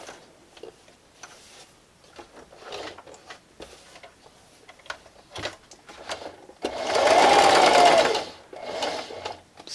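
A sewing machine backstitches at the end of a seam on a fabric Halloween treat bag, running in one loud burst of about a second after a stretch of scattered ticks and clicks from handling.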